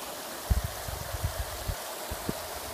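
River rapids on the Great Pee Dee River pour over rocks as a steady rushing wash. Low splashes and gurgles rise and fall underneath, with no speech.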